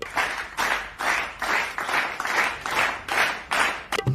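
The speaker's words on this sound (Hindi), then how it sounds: "ताली बजाते हैं ये।" Hand clapping in a steady, even rhythm, about eight or nine crisp claps at roughly half-second intervals, close and moderately loud, with no talking over it.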